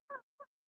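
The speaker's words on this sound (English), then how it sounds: "I whistle when I breathe." Two short, high whistling squeaks in quick succession, faint and close, like air whistling through the nose on breathing.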